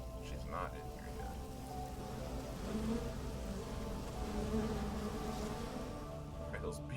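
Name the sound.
buzzing bees in the video game Fallout 4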